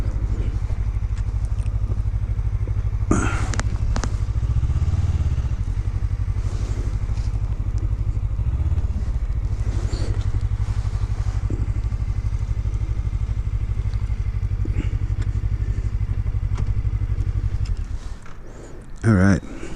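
A 2018 Suzuki GSX250R motorcycle engine idles and rumbles steadily up close while the bike is maneuvered into a tight parking spot, with wind noise and a rider talking over it before the engine cuts off near the end.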